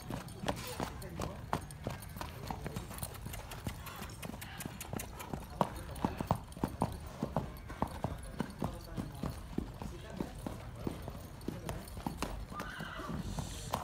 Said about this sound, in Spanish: Quiero ver cómo baila el caballo, compa Lobito, acá en el rancho